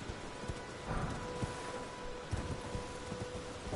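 Torrent, the spectral steed in the video game Elden Ring, gallops with a steady run of soft hoof thuds, low in level under a constant game ambience.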